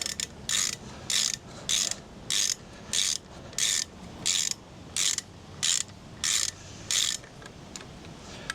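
A ratchet tightens the sprocket nuts on a Honda CB125F motorcycle in a steady series of about a dozen crisp, evenly spaced clicking bursts, close and clear over a quiet background.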